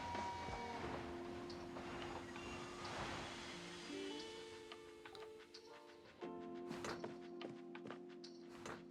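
Train rolling along in the video game Locomoto, a steady mechanical rumble with sustained tonal hum, scattered clunks and a burst of sharp clicks near the end, with no voices.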